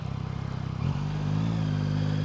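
Yamaha MT-09 Y-AMT motorcycle (2024) ridden on a road, engine note close and steady, then a brief clunk and a shift in pitch as a gear change comes through, followed by a smoother, higher engine hum.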